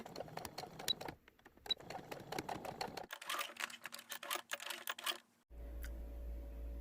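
Sewing machine stitching a homemade fabric hot pack, a fast rattling run of needle strokes close up, pausing briefly and then resuming, with a low steady hum at the end.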